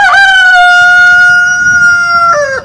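A rooster lets out one long, loud, drawn-out crow very close by, held steady before breaking off at the end.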